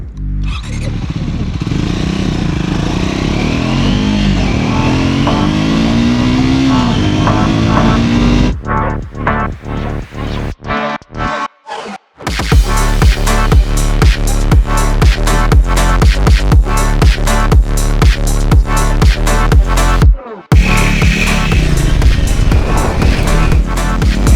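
A Triumph Scrambler 400 XC motorcycle engine runs loud and close, idling and revving with throbbing exhaust pulses, cutting out briefly before restarting into rapid, rhythmic firing.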